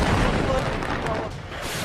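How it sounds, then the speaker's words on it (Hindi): A massive wartime explosion roars as a dense, sustained rumble with crackling debris, loud and close throughout with no clear pauses. "कायनात कंपा देने जैसा विध्वंस, ऐसा धमाका जिससे जर्रा जर्रा थर्रा उठा।"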